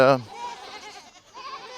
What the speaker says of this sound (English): those goats love it up there.